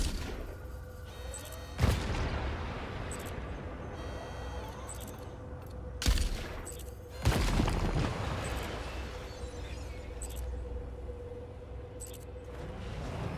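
Mortar shots fired in Death Stranding 2 in snowy terrain, three heavy booming launches spaced several seconds apart, loud and close over a steady background rumble.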